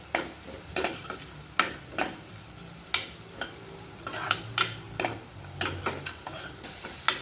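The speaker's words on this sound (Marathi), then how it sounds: "तो लसूणही आपल्याला आता खरपूस भाजून घ्यायचा आहे" Finely chopped garlic cloves fry in a pan for a dal, a soft sizzle under repeated sharp scrapes and stirs of a spoon against metal, close and fairly rhythmic.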